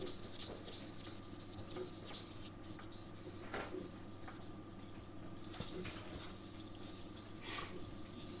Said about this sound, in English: I'm just doing my best here to rub it around and keep it nice and flat and get the surface nice and clean